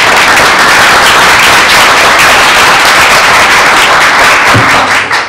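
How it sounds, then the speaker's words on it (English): Loud, dense applause from an audience at a board meeting, a continuous wash of many hands clapping close by, holding steady before tapering at the end. "Let's give them one more round of applause."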